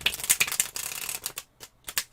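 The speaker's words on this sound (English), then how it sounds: "I have shuffled the cards now" Tarot cards being shuffled up close, a quick run of crisp riffling snaps and slaps that thin out into a few separate taps, soft and intimate with no speech.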